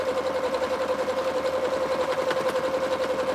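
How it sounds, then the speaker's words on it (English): A sewing machine stitches a Christmas reindeer embroidery file on its own, a steady, even mechanical whir with a rhythmic pulse that runs close and continuously with no talk. "when did sewing machines become automatic?"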